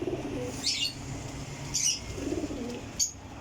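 A pigeon, one of a set of racing pigeons, gives three soft cooing calls spaced about a second apart, each with a brief higher chirpy note, close by over a low background hum.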